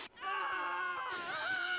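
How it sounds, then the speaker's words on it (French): Sims characters screaming in The Sims video game, a loud, sustained, wavering cry lasting nearly two seconds that rises sharply near the end, close and alone. "J'adore les entendre hurler toutes les 10 secondes."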